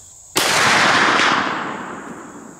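A single loud .500 Magnum sniper rifle shot, a sharp close blast followed by a long echoing rumble that slowly fades over about two seconds.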